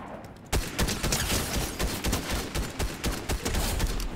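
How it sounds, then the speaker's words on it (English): Gunfire in the video game Fortnite, a dense burst of rapid shots that starts suddenly after a quiet half second and keeps going in loud, repeated cracks. "Oh, this one's shooting me."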